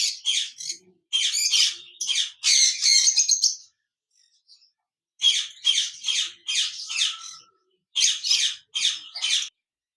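A pair of pineapple conure parrots in a cage let out loud, harsh squawks and chirps in quick bursts, with short silent gaps between the runs of calls.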